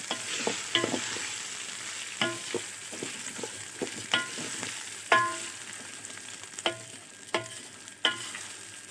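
Rice and vermicelli sautéing in a pot for one-pot koshari, with a soft continuous sizzle and repeated scraping stirs of a spoon at an irregular rhythm, close and fairly quiet, no voices.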